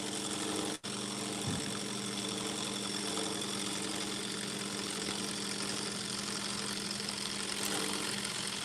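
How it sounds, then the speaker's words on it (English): A bowl gouge glides on its bevel through a wooden bowl blank spinning on a lathe, forming the shape in one steady continuous cut, a constant hum and rushing scrape with no talk. "I'm just gliding on the bevel here, and then I'm forming the shape in a single cut"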